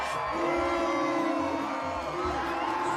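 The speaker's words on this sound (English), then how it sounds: "I hear cheering" A crowd cheers and whoops in an episode of The Legend of Korra, a dense, continuous roar of many voices with rising yells, sustained and fairly loud throughout.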